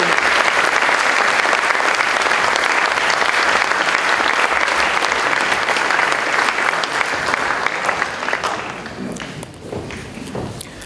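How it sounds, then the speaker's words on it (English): An audience at a 2015 academic awards ceremony gives dense, steady applause for five panel members; it is loud and sustained, then thins and fades in the final seconds. "Can I have a round of applause for these 5 people?"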